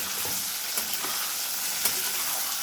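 Kofta curry masala sizzles steadily in a hot pan while a spoon stirs it with soft scraping taps, a continuous close frying hiss with no voices.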